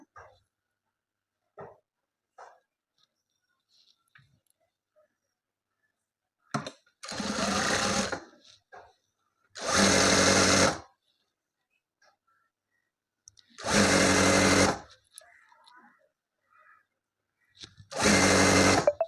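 A sewing machine stitches the seam of a cigarette pant leg in four loud, close bursts of rapid whirring, each a second or two long, with quiet pauses and faint handling clicks between them.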